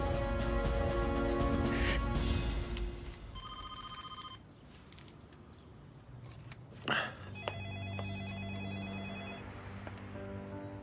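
A telephone rings in a quiet interior, its bell sounding in short repeated bursts with pauses between, fairly close and alone, before someone picks up.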